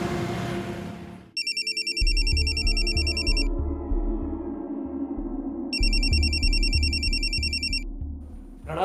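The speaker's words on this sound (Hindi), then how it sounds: "इतनी देर से तुम्हारे फोन की घंटी बज रही है," An electronic mobile phone ringtone rings loudly in a household scene of a Hindi crime drama, in two long repeating bursts over a steady musical background with no talking.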